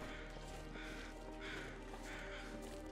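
Crows cawing in the survival video game The Long Dark, a few harsh calls spaced apart over steady ambient wind noise, fairly faint and distant.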